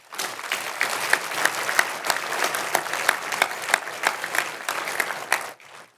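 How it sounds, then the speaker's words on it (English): A crowd at a business summit awards evening in Idaho applauds its first group of award recipients, steady dense clapping for about five seconds before it fades out abruptly. "Let's give a round of applause to our first group"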